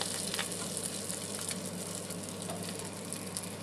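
Crispy-skinned snapper sizzles steadily in a frying pan, a dense, even crackle of hot oil that stays loud and unbroken throughout with no talking.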